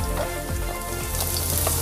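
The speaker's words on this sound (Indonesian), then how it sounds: "Pertama, kita tumis dulu bawang putihnya." Crushed garlic sautés in hot frying oil, a loud, dense, continuous sizzle with occasional stirring scrapes and pops, close and with no talking.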